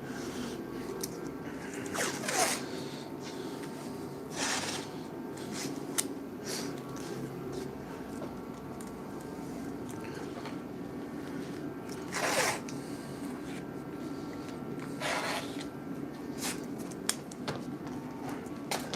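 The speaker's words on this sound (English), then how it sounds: "I'm going to tape this up." Adhesive tape pulled off the roll and wrapped around a handcrafted skateboard deck in a live workshop, giving repeated short ripping bursts over a steady busy room hum.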